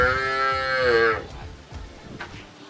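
A cow moos once, long and loud and close, during windy rainy weather near milking time, followed by shuffling and background noise.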